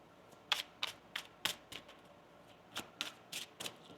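A deck of tarot cards is shuffled close up, a series of quick crisp riffling snaps in irregular bursts, fairly quiet with no talking.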